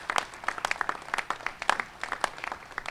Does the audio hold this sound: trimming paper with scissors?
no